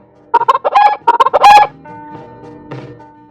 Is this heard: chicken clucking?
yes